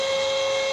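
A model Berkshire steam locomotive's horn played through NCE DCC sound gives one steady, sustained whistle tone, loud and alone with a faint hiss behind it.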